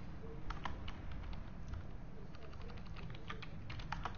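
JavaScript code being typed on a computer keyboard, steady runs of light, quick key clicks at a moderate distance over a faint background hum, with no talk.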